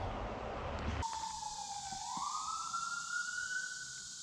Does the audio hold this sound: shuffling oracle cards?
no